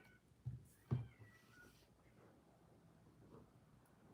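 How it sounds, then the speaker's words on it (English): Cats yowling outside, two short meows heard faint and distant in a quiet indoor room. "there's cats screaming outside"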